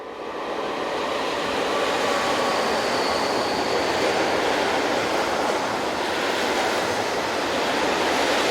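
A pair of MaK-built Class 1214 diesel locomotives hauls a set of ballast hoppers, a loud, continuous roar of engine and rolling wheels that swells in over the first second and then stays steady.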